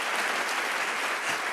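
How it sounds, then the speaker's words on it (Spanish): A church congregation applauds during a pastor's sermon, a dense, steady wash of clapping that holds evenly throughout with no voices over it. "Este aplauso es para ustedes."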